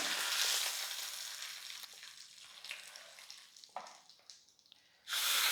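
Mustard seeds, dried red chillies and curry leaves sizzle in hot oil for a tempering with the stove switched off, a loud hissing crackle that gradually fades, then flares up sharply again near the end.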